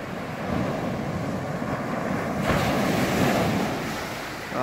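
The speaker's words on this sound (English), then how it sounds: "The waves are pounding in this morning." Waves pound steadily on a beach on a chilly morning, a continuous loud roar of surf with gusting wind buffeting the microphone and no voices.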